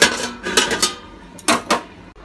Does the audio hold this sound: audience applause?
no